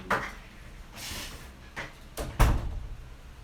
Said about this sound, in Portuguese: Deixa eu dar uma fechadinha aqui nessa porta também, pra não entrar barulho.